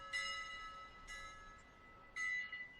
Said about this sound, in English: A bell rings off.